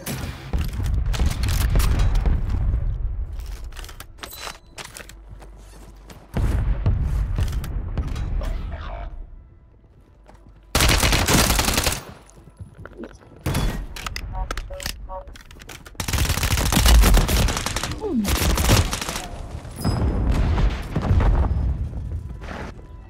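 Gunfire in a Call of Duty match, bursts of loud shots and booms in clustered volleys separated by quieter gaps, with a voice talking at times over the action.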